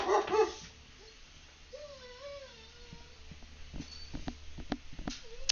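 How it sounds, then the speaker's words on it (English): A dog indoors gives a short bark at the start, then whines in drawn-out, wavering tones, all faint and distant against quiet room noise with a few soft knocks. "You might hear my dog bark."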